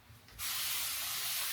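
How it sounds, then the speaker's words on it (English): A spray bottle misting water onto hair: a brief quiet rustle, then a loud, continuous close-up hiss of spray that runs to the end, with no voices. "Spray a little water."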